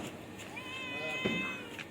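A cat gives a single drawn-out meow, close and fairly soft, against a quiet room with a faint voice in the background.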